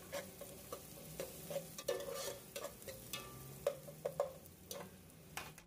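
Minced garlic and onions fry in a pan with a steady low sizzle, broken by repeated sharp scrapes and knocks of a spoon stirring them around, spaced irregularly through the clip.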